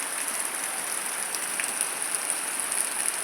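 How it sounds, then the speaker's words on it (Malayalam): Steady rain falling outside a window during the first rain of the year, a dense, even patter and hiss with occasional louder drops, continuous and moderately close, with no voices. "ഞാനിവിടെ ജനലരികിൽ നിന്നാണ് മഴ കാണുന്നത്"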